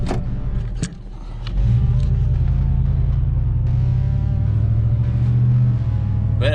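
A 2001 Ford F150 pickup drives after a U-joint replacement, heard from inside the cab as a loud, steady low engine and road rumble, with a few clicks and knocks at the start.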